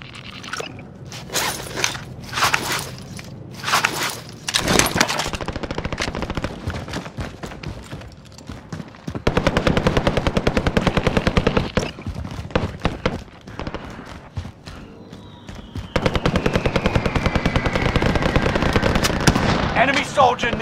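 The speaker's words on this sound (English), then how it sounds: "Taking fire here." Gunfire in the Call of Duty: Modern Warfare video game, with sharp single shots and long rapid automatic bursts, plus loud bangs, under intermittent talk.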